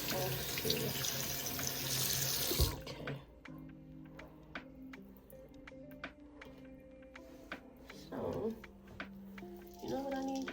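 A faucet runs water while hair is rinsed, a loud steady splashing stream for a few seconds that then shuts off, leaving quieter handling sounds and brief small noises.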